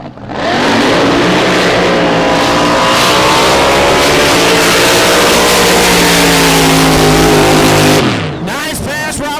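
Drag racing boat at a Southern Drag Boat Association event in Bryan, Texas roars at full power through a high-speed pass, a loud sustained engine blast that fades abruptly near the end.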